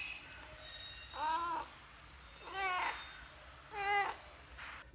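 A domestic cat meows three times in drawn-out, rising calls spaced about a second and a half apart, close by, as it waits to be fed fish in a home kitchen at lunchtime.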